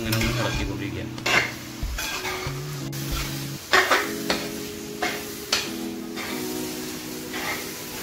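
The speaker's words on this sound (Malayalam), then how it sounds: "അത് നമുക്ക് ഇങ്ങനെ ഒന്ന് ഇളക്കിക്കൊണ്ടിരിക്കാം" Spatula stirring masala beef fry in a pan, with a steady sizzle and repeated scraping and clinking of metal against the pan, fairly close and loud, without talk.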